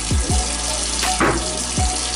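Corn juice is poured off an opened can into a sink as a steady, fairly loud stream of running liquid, with a few soft knocks of the can.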